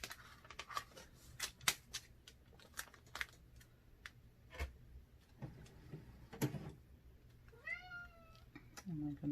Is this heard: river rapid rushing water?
no